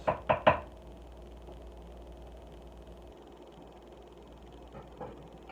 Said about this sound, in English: Maybe just give it a couple of big chops through here.